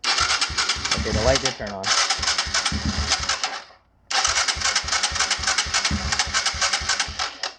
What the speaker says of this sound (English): Let's give it some cranks.